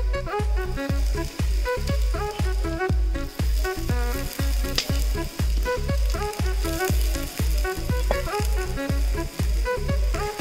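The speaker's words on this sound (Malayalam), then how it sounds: "ചെറുതായി വെച്ചേക്കണ ചിക്കൻ പീസുകൾ നമുക്ക് ഇതിനകത്തോട്ട് ഇട്ട് കൊടുക്കാം" Small chicken pieces frying in a hot pan for chicken thoran, a loud continuous sizzle with a steady, rhythmic pulsing scrape as the food is worked in the pan.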